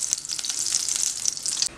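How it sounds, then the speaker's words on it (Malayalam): Coconut oil hits a well-heated cooking pot and sizzles, a bright, crackling hiss with rapid spitting pops, heard up close and alone. "ഇതിലോട്ട് നമുക്ക് വെളിച്ചെണ്ണ ഒഴിച്ചു കൊടുക്കാം"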